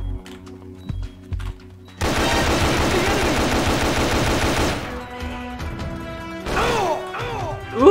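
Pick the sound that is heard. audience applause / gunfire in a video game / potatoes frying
gunfire in a video game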